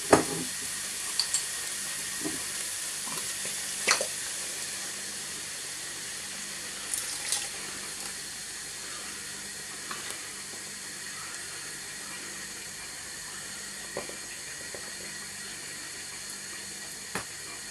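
Ale bubbles and sizzles in a hot casserole pan in a steady hiss, with a few light spoon scrapes against the bottom, early on and now and then, and no talking.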